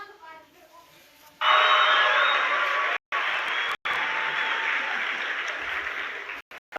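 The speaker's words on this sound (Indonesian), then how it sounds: "Beri tepuk tangan yang meriah." A crowd at a first-day-of-school gathering bursts into loud, sustained applause after a few quiet moments, the clapping steady and close, with a couple of very brief dropouts.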